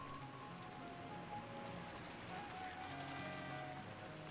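Steady rain patters and hisses evenly throughout a visual novel game scene, a constant wash of falling drops with faint tonal background music underneath.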